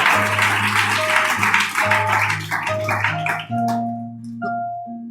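Church congregation applauding during a Spanish-language service on spiritual warfare, a soft continuous patter of clapping beneath sustained organ or keyboard chords, the clapping fading away toward the end as the music carries on.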